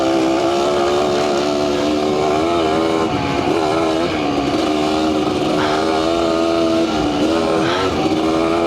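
A 1992 Kawasaki KDX200 two-stroke dirt bike is ridden, its engine a loud, continuous buzzing drone that rises and falls with throttle changes throughout, with no voices.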